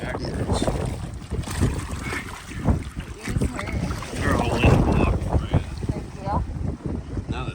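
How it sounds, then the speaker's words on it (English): Strong wind gusting outdoors at an off-grid hot springs in Alaska, buffeting the microphone with loud, rumbling bursts throughout while people walk between tubs. "it's a bit breezy"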